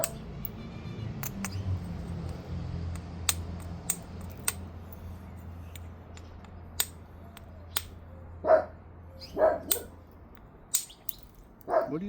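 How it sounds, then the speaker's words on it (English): A dog barks a few times at a distance, short sharp yelps spaced apart over a low steady background hum and scattered tapping of stone being knapped into a point. "What are you barking at, bro?"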